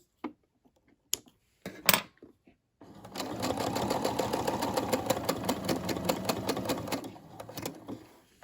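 A Brother SE600 sewing machine stitches across fabric for a key fob, a steady rapid mechanical whir for about four seconds after a few small clicks and handling taps, close and moderately loud.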